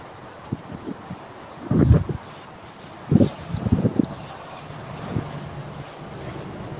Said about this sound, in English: it's pretty breezy on the north side